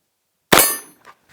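A rifle bullet from a Winchester 9422M strikes a steel silhouette target plate with one sharp, bright metallic clang that rings and decays over a fraction of a second, followed by a faint echoing tap, set against near silence.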